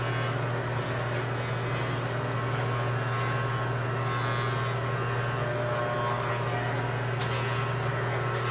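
Wahl electric hair clippers running steadily and close while cutting hair, a constant motor buzz and hum with subtle shifts in texture throughout, no voices.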